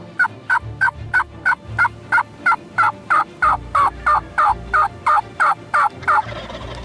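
Wild turkeys gobbling repeatedly in a steady rhythm in Kansas, about two calls per second, loud and close, with no other sounds.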